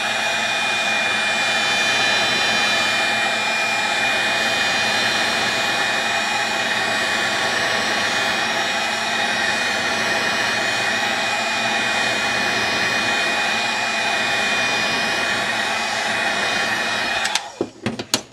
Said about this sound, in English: So now I'm going to take the heat gun. I'm using it on high.